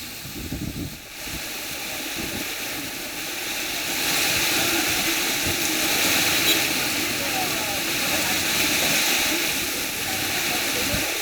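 The Hemavati river, swollen and overflowing after heavy rain, roars as a continuous loud broadband rush of water that swells slightly partway through. No one speaks.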